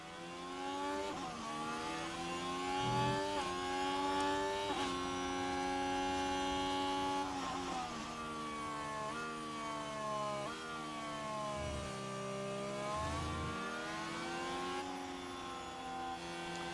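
Race cars in the F1 Manager 2024 video game accelerate away from the start, a steady layered engine whine rising and shifting pitch for a long stretch, fairly faint and continuous with no talking over it.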